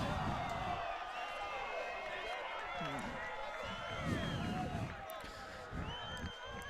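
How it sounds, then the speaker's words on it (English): The Bates home crowd at a men's college lacrosse game against Tufts cheers after a penalty-killing goal, a steady spread of distant shouts and whoops with scattered clapping, held low and continuous. "the Bates crowd showing their appreciation for that penalty killing goal there"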